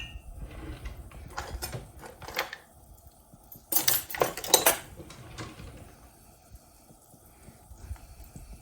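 Metal kitchen utensils clatter and jangle as someone rummages for a whisk, with irregular clinks building to a loud burst of rattling in the middle, then tapering to sparse taps.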